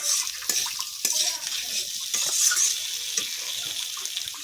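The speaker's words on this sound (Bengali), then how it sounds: "এবারে জল দেবো" Water poured into a pan of soybean kofta and potato curry, a brief splashing pour followed by stirring and light scraping, close by with faint background sounds.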